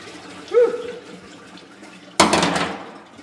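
Oil pours out of a 1932 Ford flathead V8 roadster: a short tonal gurgle, then a sudden loud gush of liquid that splashes and slowly fades, close by.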